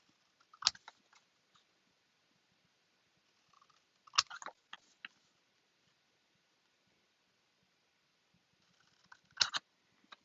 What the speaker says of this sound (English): I'm simply going to take my snips and cut from corner,